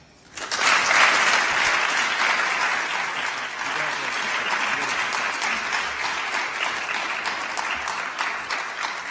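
Crowd applause at a corporate excellence award ceremony breaks out after a brief quiet start, then continues as a full, sustained round of clapping for several seconds without easing much.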